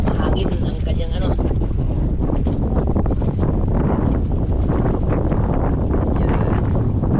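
Strong wind buffets the microphone with a constant loud rushing roar, while people talk faintly underneath.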